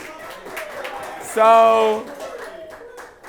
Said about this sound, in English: oh, okay, I hear claps and stuff already.